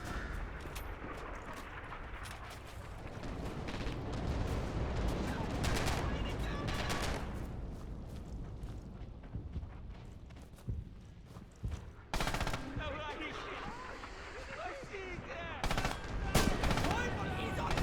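Dense World War II gunfire in Red Orchestra 2: Heroes of Stalingrad, with rattling machine-gun bursts and rifle shots near and far, overlapping sharp cracks and heavy booms throughout, and shouted voices mixed into the battle.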